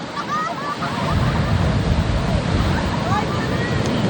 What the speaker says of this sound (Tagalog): Ang ganda ng alon. Sobrang laki.